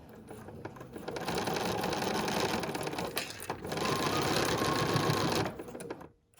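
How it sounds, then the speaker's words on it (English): Sewing machine top stitching with a quarter-inch foot around a reversible bag, a steady rapid whir and clatter in two sustained runs separated by a brief pause, then stopping. "Now I am using my 1/4 inch foot still to do my top stitching"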